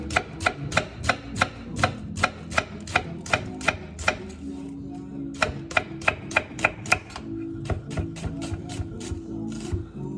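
A knife slices leek and potato into strips on a board, with a fast, regular series of sharp chopping taps, close and clear, pausing briefly midway.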